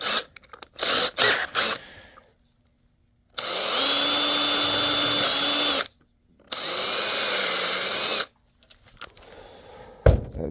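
A power drill bores through a catamaran hatch canopy in two sustained bursts of about two and a half and two seconds, loud and close with a brief stop between, preceded and followed by clattering handling noises.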